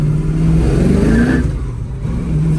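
A 1969 Ford Mustang Fastback pro touring car accelerates, its engine a loud, deep, continuous roar heard from inside the car, with rising engine pitch through the pull and no talking.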